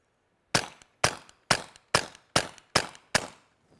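Seven suppressed rifle shots through a Wilson Combat WCR-22 rimfire silencer, sharp cracks evenly spaced about half a second apart, each with a short decaying tail, then a faint click at the end.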